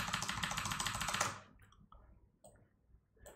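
Quick, dense keystrokes on a Mac computer keyboard, close and crisp for about a second before tapering into a few scattered clicks.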